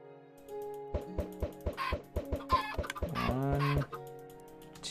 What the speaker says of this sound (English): so let's get some chickens in here